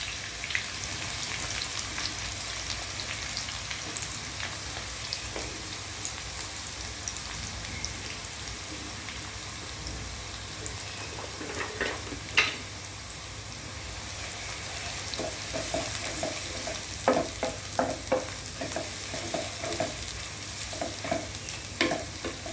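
Chopped onions fry for a mutton curry in a constant crackling sizzle, close up, with scattered stirring knocks and spatters that grow busier toward the end, and no one speaking.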